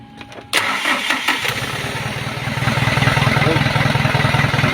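Hino 300 fuel tanker truck with a low-power fault starts up: a short cranking clatter, then the diesel catches and settles into a loud, steady idle that grows slightly stronger, heard up close.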